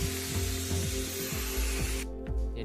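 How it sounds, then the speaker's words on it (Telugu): A power grinder works over a rust-hole repair on the body of a 2001 Honda Civic, giving a steady whining drone with a pulsing rhythm. It runs loud and close for about two seconds, then winds down abruptly. "ఇప్పుడు దానికి పైన గ్రైండింగ్ పడతామండి"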